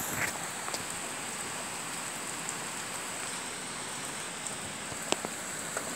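Steady rain falls on a rainy day, a continuous soft patter with a few sharper drops standing out near the end, no voices present.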